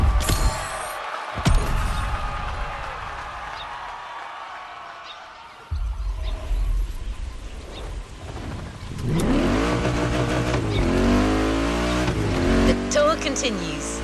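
A Mercedes AMG One driving in the racing game The Crew Motorfest, with a quiet stretch of engine noise and tire sounds giving way to loud, rising high-revving engine tones with shifting pitch near the end.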